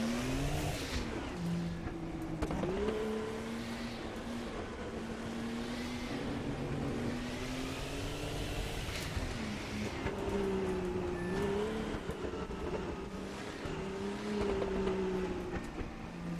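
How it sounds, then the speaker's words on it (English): A race car engine in Assetto Corsa, a racing game, drones and revs steadily, pitch rising and dipping with gear changes, with a thin high whine of turbo squeal appearing now and then. "You can hear that turbo squealing."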